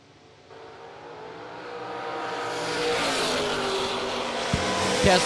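Drag racing cars, including a Camaro, idle and rumble at the starting line during a TB Promotions event, a steady engine drone that swells louder over several seconds, with a couple of sharp knocks near the end.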